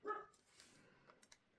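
A dog just woken from a nap indoors gives one short bark, then faint scattered yips and whimpers, fairly quiet.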